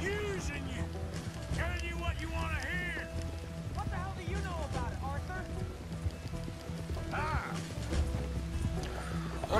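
A horse gallops in Red Dead Redemption 2, with hoofbeats and whinnies running under steady game sound and someone talking over it.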